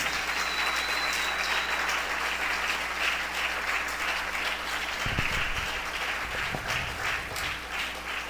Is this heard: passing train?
no